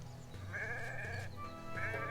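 A wavering sheep bleat in the Renowned Explorers video game, sounding twice at moderate volume over a steady musical background with no talking.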